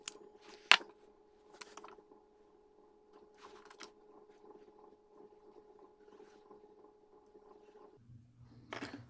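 Speaker wire being cut for a car crossover install, a few sharp snips from cutters over a faint steady hum, with a low rumble at the end.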